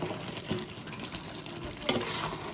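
Mutton curry being stirred in a pan: a steady sizzle with occasional scraping clicks of the spoon, including a sharper scrape near the end, heard alone at close range.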